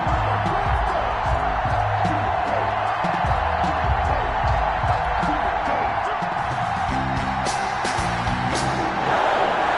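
Stadium crowd in Madden 21 cheering before kickoff between the Detroit Lions and Green Bay Packers, a steady roar with whoops and shouts layered over low rhythmic music, continuous and fairly loud.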